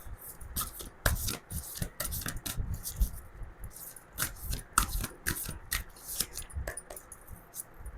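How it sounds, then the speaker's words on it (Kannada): Playing cards being laid out and handled on a table: a steady run of close, dry slaps, flicks and rustles in an irregular rhythm, with no talking. "ಈಗ 3 ಕಾರ್ಡ್ ಇಡೋಣ."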